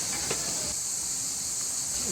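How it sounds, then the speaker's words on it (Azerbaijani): A steady high hiss of steam from a boiling samovar, constant throughout, with faint background clinks. "Samavarımız qaynayır."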